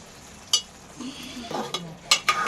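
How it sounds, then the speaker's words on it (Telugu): A spoon stirring egg curry in a pan, quiet scraping and soft simmering broken by a few sharp clinks of metal against the pan, the loudest near the end. "మంచిగా కలిసేటట్టు కలుపుకుందాం"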